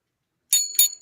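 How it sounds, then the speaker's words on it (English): A metal hotel desk bell is struck sharply, giving two bright rings and the start of a third, each a clear high ding after a moment of silence. "I'm not using a wand. I'm using a hotel bell."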